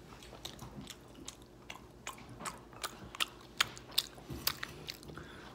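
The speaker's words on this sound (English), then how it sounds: "Why are you chewing like that, you animal?" Loud, close chewing and biting of food in a mukbang, with irregular wet crunches and smacks that grow sharper and more frequent toward the end, with no talking.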